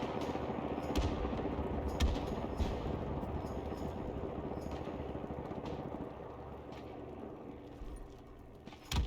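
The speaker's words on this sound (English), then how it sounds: "Artilleriebeschuss auf diese Koordinaten." A bombardment in the World War I video game Isonzo: a dense, continuous roar of battle with rattling gunfire and occasional heavier thuds, steady and loud throughout with no talking.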